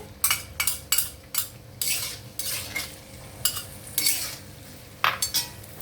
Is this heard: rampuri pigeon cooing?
no